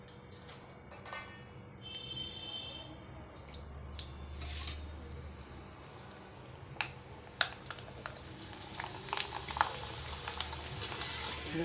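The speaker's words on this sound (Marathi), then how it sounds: "आता मी तळून पण दाखवते." Wheat kurdai wafers fry in hot oil, giving a quiet, steady sizzle with scattered sharp crackles and pops, close-up and faint, with no talking.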